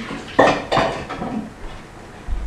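Dishes and utensils from cookie baking clattered in a kitchen sink during rinsing: two sharp close clanks of metal and crockery, then a softer rattle fading into quiet handling, with a faint thud at the end.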